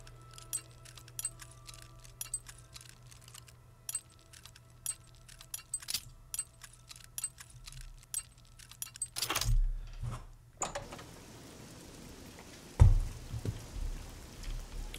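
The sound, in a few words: lock picking a door lock in video game Oblivion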